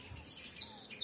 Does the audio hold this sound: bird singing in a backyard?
yes